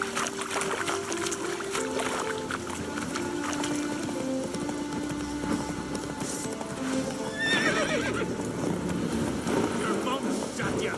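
Horse in The Witcher 3: Wild Hunt galloping: rapid, steady hoofbeats close up under a dense game soundscape, with a whinny midway and a voice speaking over the action.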